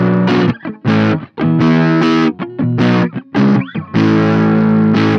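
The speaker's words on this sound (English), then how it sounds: "this is the gain dimed out" Heavily distorted electric guitar through a ZT Lunchbox amp with gain maxed plays loud chords and sustained notes in bursts with short pauses, the saturated tone thick and buzzing.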